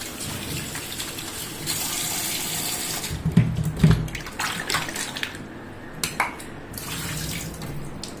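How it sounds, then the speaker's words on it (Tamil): Potatoes washed under a running kitchen tap: a steady rush of water, then nearby splashing and knocking as the potatoes are handled in the stream. "பொட்டேட்டோ வாஷ் பண்ணலாம் வாங்க."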